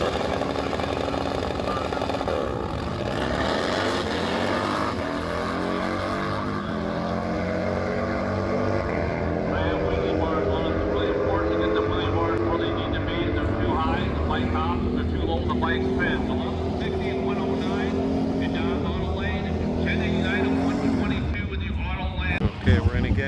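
Drag racing motorcycles at Byron Dragway run a loud, sustained engine roar with rising and falling revving harmonics. It carries on for over twenty seconds, ending with a brief burst.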